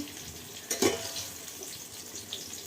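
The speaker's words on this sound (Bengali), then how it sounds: "দেখো পটল ভাজা ভাজ দিছি" Close oil sizzle of pointed gourd frying, with a brief clatter of stirring near the start, then a steady crackling fry continuing quietly.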